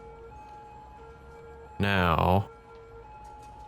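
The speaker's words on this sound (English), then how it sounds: "is it just me or is that siren really loud? Sirens are always loud in this game." Siren blares in Cities: Skylines, a loud wailing burst of about two-thirds of a second that sweeps downward in pitch, cutting sharply over a steady background tone and faint game ambience.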